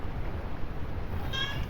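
A pet cat named Sam meows once near the end, a short tonal call rising over steady low background rumble on a farm.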